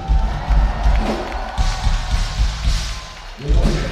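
A metal concert crowd in Warsaw cheers and roars, a loud, dense wash of voices with thumping low rumble and scattered whoops swelling and easing across the moment, with no clear talk.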